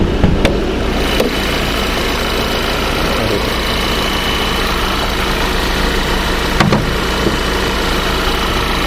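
2012 VW Jetta with a 2.0 TSI engine running at a steady idle, a close, loud mechanical hum and vibration with light ticking, broken by a few brief clicks.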